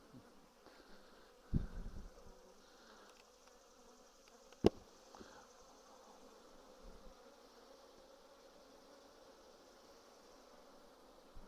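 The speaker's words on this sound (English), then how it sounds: "Wow, a lot of bees up here too." Honey bees buzz continuously around an open hive with honey supers during a spring check, a dense, steady drone close by, with a few sharp knocks and handling thumps from working the hive.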